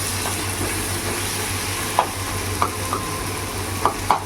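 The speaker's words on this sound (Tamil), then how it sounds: "வதங்கிட்டு இருக்கட்டும்" Onion, green chilli and chilli powder for sambar sautéing in a pan, a constant sizzle with several sharp spoon taps against the pan near the end.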